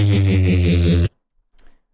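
A neurofunk reese bass synth with a hollow, vowel-like filter and EQ movement drones loudly for about one second and then stops abruptly.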